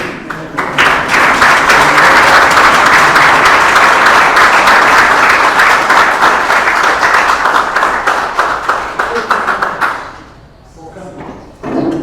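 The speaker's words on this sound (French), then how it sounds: "que nous puissions nous applaudir" Loud, dense applause from a large audience at a scientific conference fills the room for about ten seconds, then fades out into quiet murmuring.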